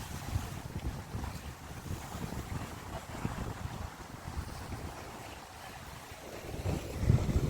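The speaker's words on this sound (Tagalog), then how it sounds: "Lakas ng hangin." Strong wind buffets the microphone in a steady low roar at the seaside in Infanta, Quezon, with open-water ambience underneath and a harder gust near the end.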